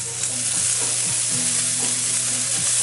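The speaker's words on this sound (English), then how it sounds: "So I can go ahead and start putting my meat on my griddle." Thin slices of flank steak sear on a hot griddle for taco filling, giving a steady, loud sizzle with occasional crackle and faint clatter of stirring, no voices.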